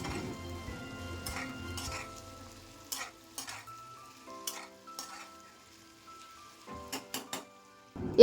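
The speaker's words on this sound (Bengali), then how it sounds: "অন্যদিকে কড়াইয়ে ঢাকা সরিয়ে" A spatula stirs greens for Malabar spinach chorchori in a pan: scattered scraping and clinking strokes over a faint sizzle, close by, with no speech.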